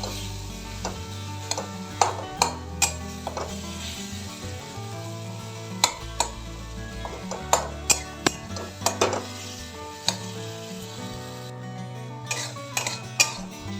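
Green chillies being stirred in a pan, with a soft low sizzle under repeated sharp clinks of a spoon against the metal, irregular and close.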